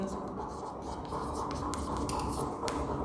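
A pen or chalk scratches out an answer on a board in short scraping strokes over steady low background noise.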